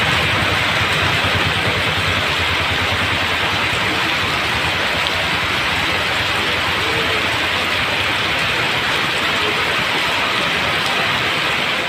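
Heavy rain pours steadily over Coimbatore city and its suburbs, a dense, unbroken hiss close to the listener, with a faint engine rumble beneath and no voices.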